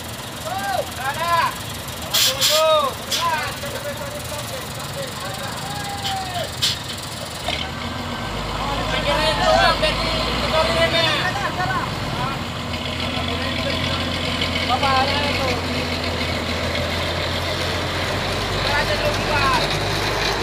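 A heavy tow truck idles and revs with a deep diesel rumble while hauling off a crashed trailer truck, engine noise swelling midway and staying steady, with people talking and calling out over it nearby.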